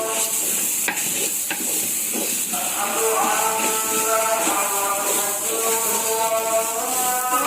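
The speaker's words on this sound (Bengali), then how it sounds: "ভালো করে চালটা কষিয়ে নেই অফ করে দাও চাউলটা কষাচ্ছি" Uncooked rice being stir-fried in a pan sizzles and hisses steadily up close, with scraping stir sounds and a few sharp knocks against the pan.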